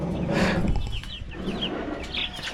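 Roosters on a farm give a few short clucks and calls, fairly close but soft, with quiet background noise and no speech.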